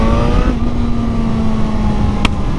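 A Suzuki GSR motorcycle engine running loud and close, holding a steady rumbling idle-like tone with a sharp exhaust pop near the end as the throttle is eased off.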